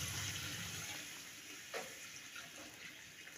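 Water runs steadily in a soft continuous splash, poured into a cooking pot for biryani rice, with a faint clunk partway through.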